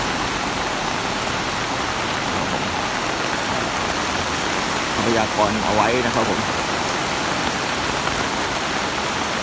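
Heavy, continuous rain pours down during Thailand flooding, a steady dense wash of noise throughout, with someone talking over it.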